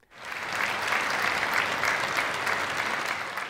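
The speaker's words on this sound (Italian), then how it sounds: "accompagnato dallo scroscio di applausi della platea pesarese" Opera audience in Pesaro applauding at the Rossini gala, a dense, sustained roar of clapping from a full house that swells in quickly and holds steady.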